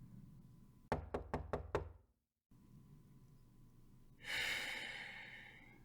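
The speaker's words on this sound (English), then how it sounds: "No, don't knock." Five quick firm knocks land on a door close by, followed by a brief silence, then a quiet room hum and a breathy gasp or sigh.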